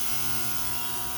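Ultrasonic cleaner running with a Yamaha motorcycle carburetor's parts inside, a steady close electric buzz with a faint rattling hum, brief and constant.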